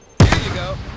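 A single sharp blast from a grenade in The First Descendant, a close, loud bang that quickly fades into a short rumbling tail.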